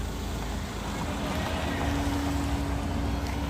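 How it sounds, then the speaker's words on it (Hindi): Wind blowing across a house rooftop, a steady broadband rush with a low rumble, buffeting the microphone continuously throughout, fairly loud with no clear speech over it. "तो भाई बच्चे छत पे आ रहे हैं यहाँ और बढ़िया हवा चल रही है यहाँ"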